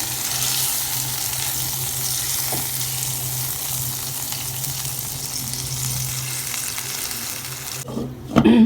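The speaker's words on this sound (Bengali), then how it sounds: "এই পর্যায়ে আমি জল দিয়ে দিচ্ছি ঝোলের জন্য।" Yogurt and ground-chili chicken curry sizzles steadily in a pan for several seconds, then water poured in near the end sets off a sudden, louder burst of bubbling and hissing.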